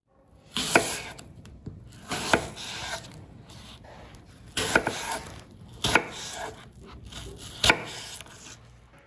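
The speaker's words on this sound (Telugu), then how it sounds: "యాపిల్స్ని చిన్న పీసెస్గా కట్ చేసుకోవాలి" A knife chopping apples into small pieces on a board for a creamy cinnamon apple dessert, in irregular sharp thuds spaced a second or two apart, close and fairly quiet.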